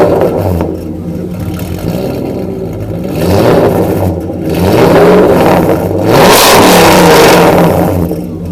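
Supercharged Porsche 928 engine in Lambo orange revving repeatedly, close and loud, with rising swells of engine roar and whine between steadier idle stretches, no talk over it.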